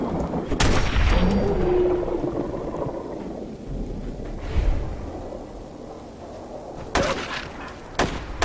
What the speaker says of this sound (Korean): 이제 그 지역을 벗어났는데 하필 방사능 폭풍이 지금 치고 있어